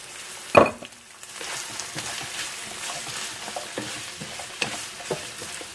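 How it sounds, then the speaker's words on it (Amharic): Beef stir-fries with freshly added garlic and carrots in a pan, giving a continuous sizzle with scattered stirring scrapes and clinks, close and steady, no talk. "አሁን ነጭ ሽንኩርት ጨምራለሁ እና ካሮት ጨምራለሁ።"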